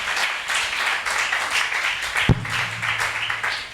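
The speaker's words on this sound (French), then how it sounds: "Put your hands together for the Lord." A church congregation claps and applauds steadily throughout, with a single sharp thump partway through.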